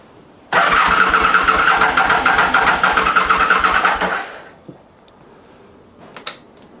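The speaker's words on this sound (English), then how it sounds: "now we'll try it with just the starter motor in place and not the ignition link" A car's starter motor cranks the engine for about three and a half seconds, a close rapid rhythmic churning that stops without the engine firing, followed by quiet with faint clicks.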